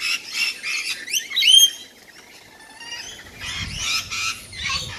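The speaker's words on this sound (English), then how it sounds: "Just thought I'd show you those little rainbow lorikeets." Rainbow lorikeets and a cockatoo at a backyard feeder, with close, shrill chirps and harsh squawks in busy bursts, a brief lull, then more chattering calls.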